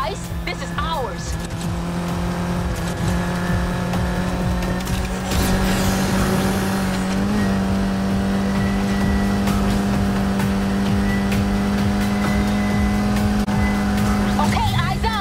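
Race cars roar at high speed through a Need for Speed Heat street race, a steady loud engine drone with tire squeal and cars passing, under a constant music-like bed and some talk.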